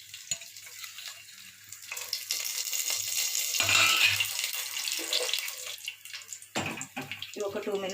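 Whole spices crackle and sizzle as they fry in hot oil in a pan for a vegetable biryani, a loud, hissing spatter that swells in the middle, heard close by with a few stirring sounds and no speech.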